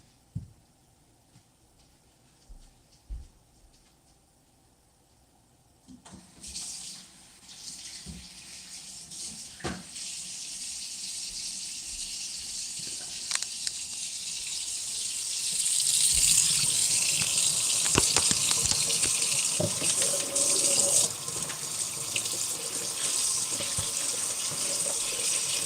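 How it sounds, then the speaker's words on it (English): Cold tap water runs into a kitchen sink to rinse celery and onions. A few handling clicks come first, then the water starts and builds to a strong, steady gush as the vegetables are washed under it. "Make sure it's all rinsed off with some cold water."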